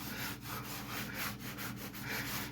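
Drywall wiped smooth with a damp sponge instead of sandpaper, a steady close scraping and rubbing sound with rhythmic strokes repeating every half second or so, continuous and alone without talk.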